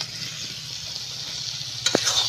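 Fried potatoes are stirred into a spice mixture in a pan for veg fried rice, giving a loud, continuous sizzle, then a sharp scrape near the end.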